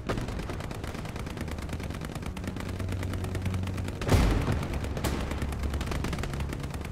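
A steady rattle of distant gunfire across a Hell Let Loose battlefield, with one sharper, louder sniper rifle crack standing out near the middle.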